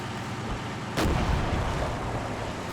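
A heavy gun fires once in the Combat Mission Red Thunder war game, a sharp booming blast followed by a low rumbling tail over steady background battle ambience.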